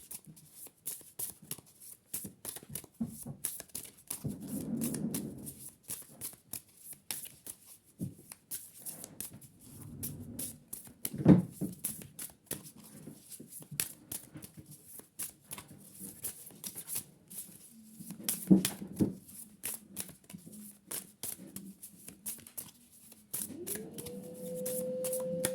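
Tarot cards shuffled by hand in quick bursts of riffling and sliding card noise, close and soft, with pauses between rounds and no talk.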